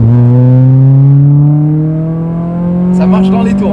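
A car engine revving with a rally-like sound, its pitch climbing steadily as it accelerates, loud and close, with a brief rattling clatter near the end.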